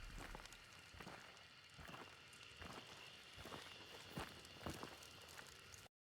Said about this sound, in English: And then you hear the footstep right there.